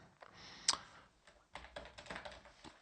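Typing code on a computer keyboard, with a single sharp click followed by bursts of rapid, close key taps, no speech.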